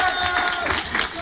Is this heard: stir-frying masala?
no